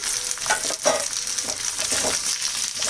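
Tomatoes fry in a pan for matar paneer and are stirred, giving a steady close sizzle with scraping stir strokes over the hiss.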